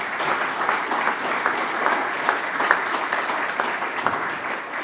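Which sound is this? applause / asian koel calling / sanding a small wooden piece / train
applause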